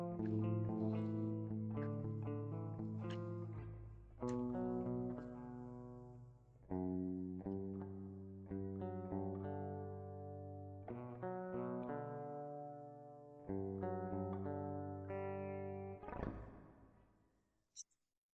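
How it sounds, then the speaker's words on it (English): Electric guitar played through a reverb effect in Cakewalk, picking a melodic riff of sustained, ringing notes and chords with lingering tails, loud and close with no talking, ending in a brief sharp hit. "here, you can hear the reverb effect."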